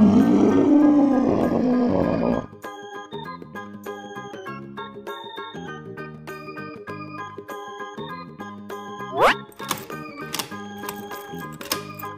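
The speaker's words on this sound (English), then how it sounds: "Dinosaur." A cartoon dinosaur lets out one loud, gravelly roar lasting a couple of seconds in a children's animal cartoon, followed by light plinking music with a brief sweeping effect.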